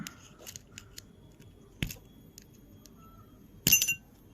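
A watch case is pried open: faint scraping gives way to a sharp metallic click, then a louder snapping clatter near the end, close by and otherwise quiet.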